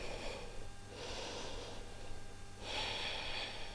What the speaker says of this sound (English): Taking 3 deep breaths here.